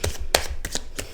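A deck of tarot cards is shuffled by hand in several quick, soft riffling and slapping bursts, close and clear with no talking.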